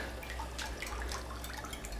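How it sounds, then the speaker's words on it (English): Boiling water being poured into chocolate cake batter for a layered waffle cake, a faint, continuous trickling liquid sound with small splashes, quiet and heard alone without talk. "then we have to add in the boiling water"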